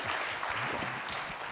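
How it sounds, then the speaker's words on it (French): Audience applause at a rugby talk evening, a brief wash of clapping from a crowd, moderately loud and continuous with a faint murmur underneath. "On peut l'applaudir."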